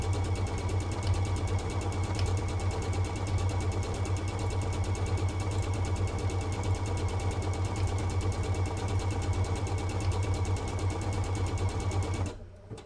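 A sewing machine runs fast, stitching decorative patterns in a steady, continuous high-speed whir that holds level and close, then cuts off abruptly near the end.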